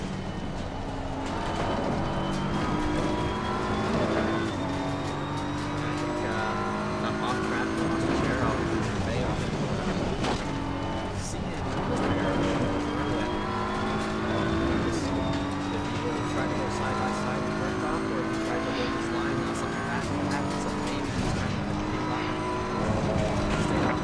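Multiclass race cars, among them a Porsche, roar around the Oulton Park circuit in a continuous loud engine drone with rising and falling pitch as they pass, under steady race commentary.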